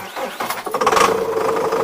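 A tractor engine, a new MTZ-1025 or Zetor Proxima Plus 110, warming up, with a steady loud running rumble that rises briefly after a short start.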